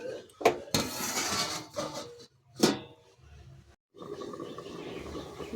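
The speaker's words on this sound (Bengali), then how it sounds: "আমি ঢেকে দেবো দশ মিনিটের জন্য" A metal cooking pot being covered with a plate while making shrimp with fig curry, with a couple of sharp clanks and clinks of dishware among softer kitchen handling noises.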